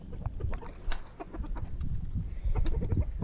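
Backyard chickens clucking and pecking while eating tuna, a steady scatter of close soft clucks and short calls over a low rustling background, with no voices.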